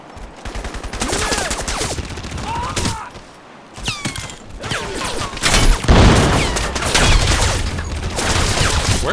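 Heavy rapid gunfire from Crysis Remastered, with sustained bursts and sharp shots running loud and close across the whole stretch, a brief lull near the middle before the firing surges again.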